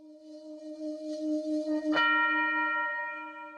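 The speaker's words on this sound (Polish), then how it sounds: "Aż nagle wszystko znika wraz z uderzeniem gongu" A sustained, ringing metallic drone is cut by a single loud gong strike, its bright shimmering tone hanging and slowly fading afterward.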